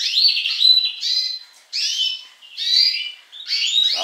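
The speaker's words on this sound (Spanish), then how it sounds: "Ahí lo tenéis al verdón cogiendo pasto" A caged greenfinch sings a series of bright, high chirping phrases, four or five short bursts separated by brief gaps, close and clear against a silent background.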